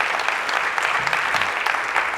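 A church congregation claps during a sermon, a short steady round of dense applause at fairly close range.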